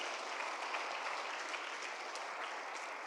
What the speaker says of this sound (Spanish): Dale un fuerte aplauso a Dios, porque yo sé que también lo está haciendo para muchos.